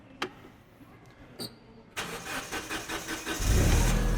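A Hyster S50FT propane forklift engine cranks with a rapid rhythmic churning, then catches and rises into a loud, steady running rumble close by, after a few faint clicks.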